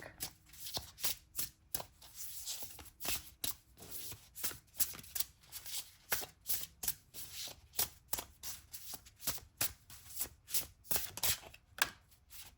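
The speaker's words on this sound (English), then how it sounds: "All right, let's get a card from this oracle deck." An oracle card deck is shuffled by hand in quick, repeated riffling bursts that continue steadily and close up for the whole stretch, with no voices.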